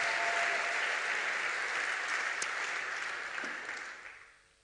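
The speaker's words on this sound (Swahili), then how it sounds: "Hebu tena tumpigie Bwana makofi kwa ajili ya mtumishi wake" Congregation applause for a preacher at a Swahili church service, a dense steady clatter of many hands that carries on evenly before fading out near the end.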